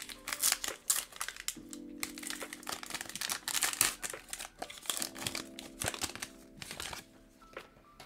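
A football trading card pack is torn open and its wrapper and cards handled, giving irregular crinkling, rustling and crisp tearing bursts up close, with no talking.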